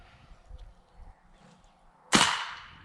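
A Benjamin Crosman Armada 5.5 PCP air rifle fires a single sharp, close crack that decays quickly after faint handling noises and quiet background sounds.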